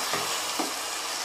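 Soy sauce hits hot oil in a pan of frying bread manchurian, giving a brief, close hiss of sizzling with two soft stirring scrapes.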